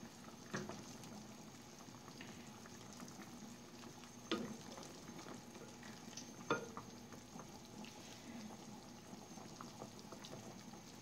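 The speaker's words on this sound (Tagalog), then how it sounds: "Kumukulo-kulo na ang buto ng isda." Quiet, steady bubbling of fish bones simmering in a pot of sinigang soup, with a few soft clinks and taps against it, faint and continuous.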